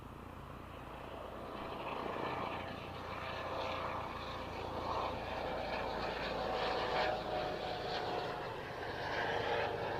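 A Pilatus PC-12 turboprop drones steadily overhead near an airport, a continuous buzzing propeller and engine sound at moderate distance that swells slightly over ten seconds.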